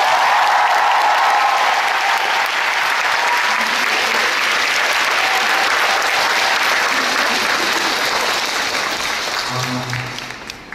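A large theater audience applauds loudly and steadily for child performers in a Mozart musical, sustained clapping that fades slightly at the end.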